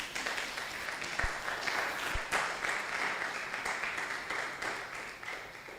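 A seated audience at a leadership and innovation talk gives a steady round of applause, a dense, even wash of many hands clapping together with no talk over it.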